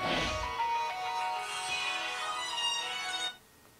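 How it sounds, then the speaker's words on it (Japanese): An incoming phone call rings inside the horror video game SIREN: New Translation as a melodic, tonal ringtone, steady and moderately loud for about three seconds before it cuts off to near silence. "あれ、電話来た。"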